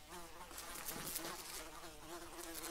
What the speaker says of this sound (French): Une énorme mouche à merde dans ma chambre là.